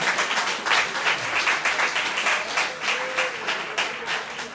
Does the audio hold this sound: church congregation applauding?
yes